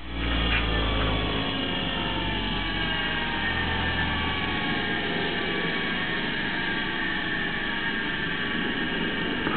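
A 460-volt, 6.1-horsepower, 4.6-kilowatt three-phase Rotoverter motor running with no load on 120V AC 60Hz through a variac gives a steady hum and whir. It is constant and moderately loud, with a low rumble that eases early on.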